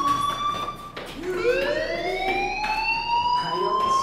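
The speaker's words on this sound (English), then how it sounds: "Hey, do you hear that fire alarm?" A school fire alarm in the Life is Strange video game wails as a rising, sustained electronic siren tone with harmonics, steady and loud across the whole stretch, with faint talk underneath.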